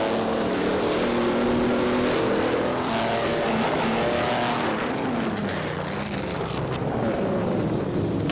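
A Mercedes-Benz W154 racing car in a video game race, its engine a loud, dense, continuous roar with gently shifting pitch as it runs among other cars, no voices.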